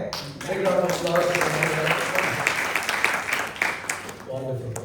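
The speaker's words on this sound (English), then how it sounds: "Big round of applause." An audience at a musical evening in a senior living community applauds after a song, a brief patter of clapping in the middle while someone talks before and after it.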